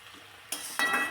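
Onions frying with flowers in a pan for a village-style vegetable dish, a brief quiet start then a sudden burst of sizzling as ingredients hit the hot oil, close and short.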